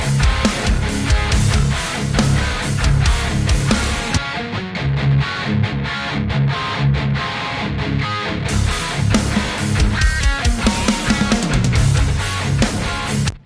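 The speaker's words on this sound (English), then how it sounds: "I recorded the left rhythm guitar and the lead, and it sounds like this" Heavily distorted electric rhythm guitar and lead guitar through a Kemper amp profile, loud dense chugging riffs with a brief thinner passage in the middle, playing steadily for the whole stretch and cutting off at the end.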